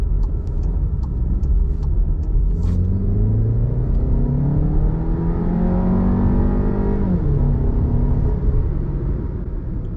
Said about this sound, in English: That was hard acceleration.